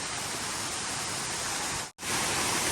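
Water rushes through natural rock pools at Wei Sawdong waterfall, a loud, steady, hissing roar that cuts out for an instant before surging back.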